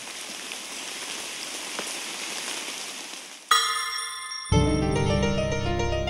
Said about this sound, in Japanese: 実際の心地よい雨の音など、睡眠、集中、リラックスしたい時のお供に使用できます。